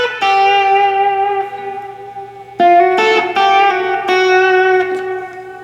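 Electric guitar playing an ambient lead through a King of Tone overdrive pedal, drenched in delay and reverb; sustained, shimmering notes ring out loud, with fresh notes struck near the start and a few more later that trail into echoes.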